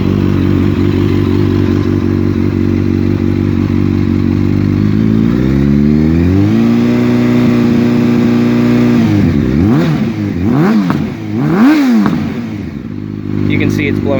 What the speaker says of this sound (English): It's cold enough that it's still stuttering whenever I give it throttle right off the bat